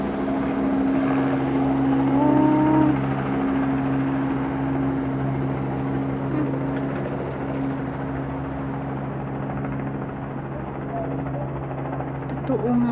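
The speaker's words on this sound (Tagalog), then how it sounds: "May lapagan pala ng aeroplano dyan sa kabila." A propeller aeroplane lands at a nearby airstrip, a continuous droning engine hum with steady low tones holding throughout, fairly loud and close, with a brief rise in roar early on and faint voices beneath.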